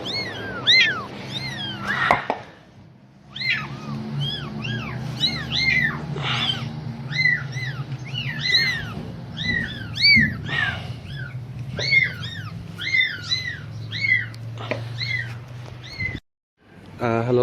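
A mother cat calls for her kittens with a long run of repeated, insistent meows close by, while low voices murmur in the background.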